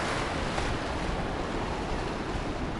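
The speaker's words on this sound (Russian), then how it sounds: "волны идут. Так, идет волна" Sea waves wash onto the shore at a Black Sea beach in Kudepsta, Sochi, a dense continuous roar of surf mixed with wind buffeting the microphone, close and steady.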